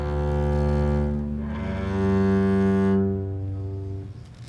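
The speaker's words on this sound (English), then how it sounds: "with the bow, and it's called arco and sounds like this." A double bass bowed arco draws long, smooth sustained low notes, swelling and shifting pitch in a slow connected line, close and resonant with no talk over it.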